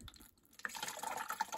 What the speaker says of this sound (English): the first thing I'm gonna do is pour the water in